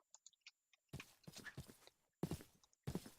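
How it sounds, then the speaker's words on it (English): Hooves clip-clop in a steady walking rhythm as a horse is ridden in a modded Minecraft superflat survival world, with close, distinct steps in short runs broken by silent gaps. "time to hop on the horse"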